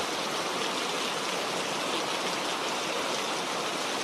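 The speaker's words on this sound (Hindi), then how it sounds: "बिजली चमकी और तेज बारिश शुरू हो गई" Dense, steady rush of heavy rain, a loud hiss with no breaks throughout; no voices.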